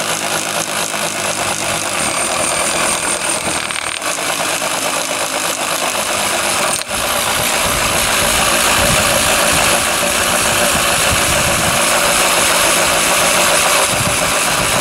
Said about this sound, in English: the video that follows is probably the fastest Rustler VXL donuts in the world